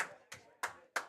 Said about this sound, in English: I couldn't hear because there's so many people clapping back here